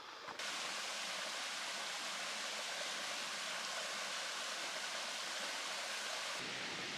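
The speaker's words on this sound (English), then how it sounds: "Nice little area right by a big creek." A big creek rushes beside the Harper's Creek trail shelter on the Appalachian Trail, a steady, loud broadband roar of flowing water that holds unbroken throughout with no voices.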